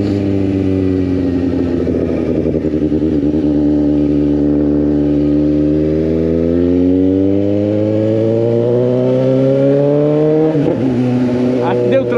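A Suzuki GSX 750 motorcycle with only a bare exhaust pipe roars loudly close by, its engine pitch sweeping up through gears shifted without the clutch, with a brief dip and jolt near the end as a gear change lands.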